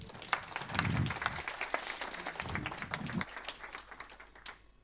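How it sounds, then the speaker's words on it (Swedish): An audience at an annual conference claps to welcome a speaker to the stage, a dense wash of applause throughout that eases off toward the end, with faint voices murmuring underneath. "Och en rungande applåd tycker jag vi bjuder på."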